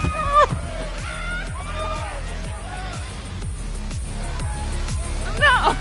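A crowd at a concert in the video game Life is Strange gives off a mix of cheering, shouting and babble over loud, thumping music, with bursts of screaming near the end.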